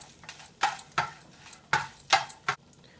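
Dried red chillies and curry leaves sauté in hot oil in a pan for a Kongu-style village fish curry, heard as several sharp bursts of sizzling crackle with stirring and clinks of a utensil against the pan, nearby, with no talk.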